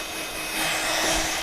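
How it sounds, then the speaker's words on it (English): A heat gun blows over a handmade birthday card, giving a steady, close whooshing roar of hot air that swells slightly and continues on its own. "I'm going to go over if we've got the heat gun somewhere and just give this a dry off."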